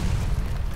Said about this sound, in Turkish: Aa, patladı bir şekilde.